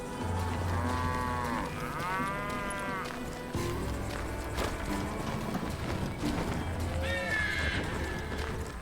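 Cattle lowing in the Western game Call of Juarez Gunslinger, several drawn-out moos rising over a steady low rumble of game ambience and hoofbeats, with voices talking around them.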